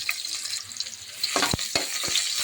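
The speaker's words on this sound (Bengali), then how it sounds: "পেঁয়াজ কুচি দিয়ে দিলাম একটু রসুন কুচি দিয়ে দিলাম" Chopped onion and garlic frying in hot oil, a bright steady sizzle with a burst of crackling and spatula scrapes in the second half, close and fairly loud.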